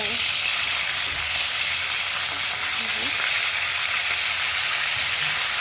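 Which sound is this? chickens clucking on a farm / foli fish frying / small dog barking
foli fish frying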